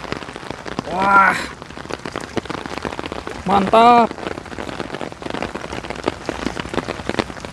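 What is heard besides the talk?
heavy rain falling during flood in Korea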